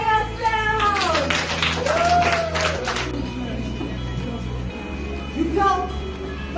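A group of schoolchildren clapping for themselves in a classroom or school hall, a burst of dense clapping and crowd noise lasting a few seconds, mixed with children's voices and adult talk.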